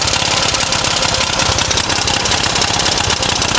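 A 1926 Jawa motorcycle engine runs with its exhaust muffler removed, giving a loud, steady, rapid firing chatter that continues without a break throughout.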